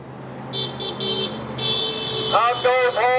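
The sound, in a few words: car horns honking at a march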